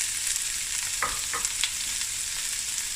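Two chopped onions sizzle steadily in a hot pan, a continuous close frying hiss with a few brief scrapes, no voices.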